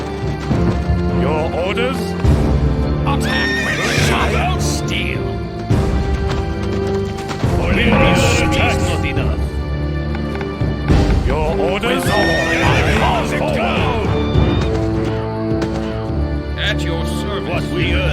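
Cavalry horses in the Empire Earth game's Roman campaign, with repeated loud neighs and whinnies over galloping hooves and battle clatter, and voices calling out orders between them.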